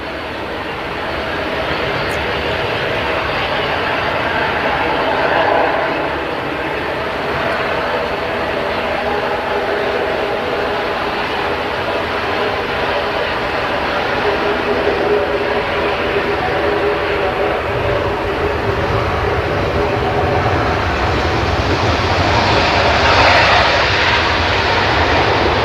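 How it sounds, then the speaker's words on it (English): Eurowings Airbus A320neo jet at Manchester Airport, a steady broadband engine roar holding at constant loudness for the whole stretch with no talk over it. "this is the Eurowings A320neo. I haven't seen an A320neo from them before"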